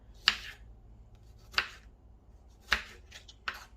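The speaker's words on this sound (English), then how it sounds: "Now our tomato goes in next, so let's chop that up small" Kitchen knife chopping a tomato into small pieces on a board for a potato and spring onion salad: four separate crisp chops spaced about a second apart, close and fairly quiet against low background hum.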